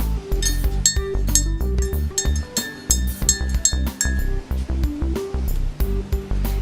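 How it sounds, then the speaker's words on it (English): A spoon stirs milk and sugar into Keurig-brewed coffee, a quick run of bright clinks and taps against a mug, some ringing briefly, in an uneven rhythm at close range. "Need a spoon to stir it."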